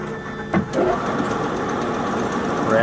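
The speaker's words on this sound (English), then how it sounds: "Rapids down to the work, hits the flag, and then it goes into feed mode." A Daito GA 330 NC bandsaw runs steadily in a workshop, its powered chip conveyor and blade brush adding to a continuous mid-pitched machine drone, with brief bumps as the head rapids down and shifts into feed.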